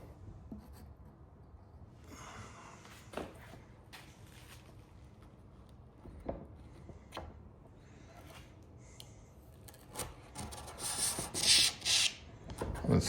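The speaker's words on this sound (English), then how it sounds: "Let's go ahead and put a hole through it." An ice pick or dowel pokes a hole through a car ramp, giving scattered close scratching and scraping with sharp clicks and a louder rasping burst near the end, no speech.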